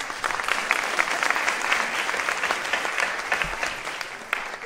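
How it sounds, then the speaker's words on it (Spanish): A crowd at a political event claps warmly to welcome two young speakers, sustained dense applause lasting several seconds, steady and moderately loud with no speech over it. "Por favor, un fuerte aplauso."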